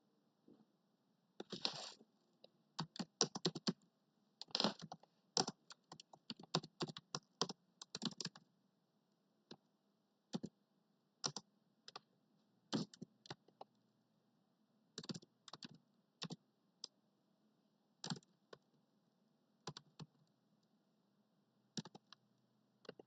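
Quiet bursts of typing on a computer keyboard, clustered key clicks in uneven runs separated by short pauses, close and soft against a faint background hum.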